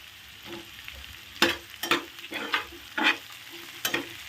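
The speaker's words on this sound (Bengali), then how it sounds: "এবার দিয়ে দেবো টমেটো।" Chopped tomatoes fry in hot oil with ginger for a vetki fish dish, a soft continuous sizzle broken by several sharp bursts of stirring and scraping in the pan.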